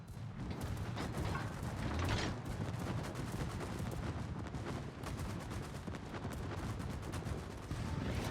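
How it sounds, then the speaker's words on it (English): Naval battle in World of Warships around a Tier 10 Italian battleship, Shikishima guns among them, with a dense continuous rumble of heavy gunfire and booming salvos throughout, loud and unbroken, no talking. "See, there's Shikishima guns, but he just totally whiffed."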